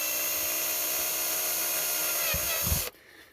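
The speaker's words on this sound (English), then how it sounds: "The Ryobi always has the 3 millimeter drill bit in it." A Ryobi power drill fitted with a 3 mm bit spins at a steady high whine for nearly three seconds, with a few thuddy bumps as it bites before it stops suddenly.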